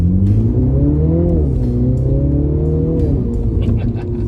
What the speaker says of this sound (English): little burble on shifts